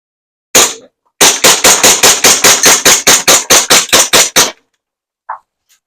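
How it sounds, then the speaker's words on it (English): A SAR9 gas blowback airsoft pistol fires a rapid magazine dump of sharp, loud cracks, one lone shot then a quick string of about fifteen evenly spaced pops, followed by silence and a faint click. "the gun does shoot out the entire 22 rounds"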